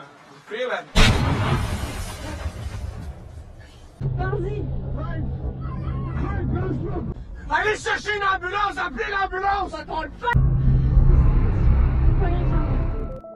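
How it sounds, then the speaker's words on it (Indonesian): A sudden loud blast erupts, followed by rumbling and a roaring, crackling burst, with a voice speaking over the din in between. "bubuk mesiu itu tiba-tiba meledak dengan sendirinya"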